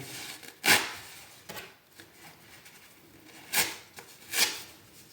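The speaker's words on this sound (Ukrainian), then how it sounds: "Беремо серветку, складаємо навпіл та розриваємо на маленькі шматочки." A folded paper napkin being torn into small pieces by hand, heard as a few separate crisp ripping bursts with quiet pauses between them, up close and with no talking.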